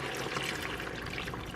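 Chicken stock made from water and bouillon cubes poured into a pot for kielbasa and rice, a steady, close splashing pour that runs evenly throughout without a break.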